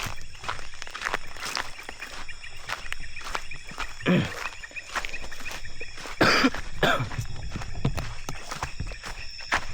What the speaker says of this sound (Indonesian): Cuaca makin dingin, saya pun batuk-batuk.